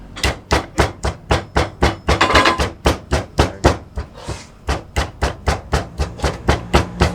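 Ingredients for a Balinese fish curry are pounded in a stone mortar in Bali, with steady, loud, close thuds about two per second and a brief burst of faster strikes midway.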